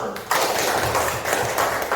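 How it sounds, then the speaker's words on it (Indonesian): Children in a classroom clap together, a dense, brisk burst of overlapping claps that fills the short moment, with some voices underneath. "Tepuk tangan dulu."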